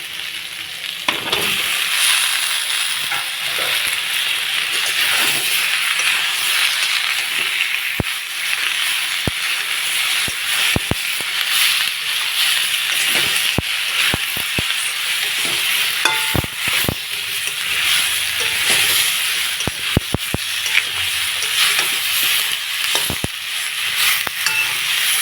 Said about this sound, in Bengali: এখন দিয়ে দেবো কুচিয়ে রাখা কাঁচা টমেটো।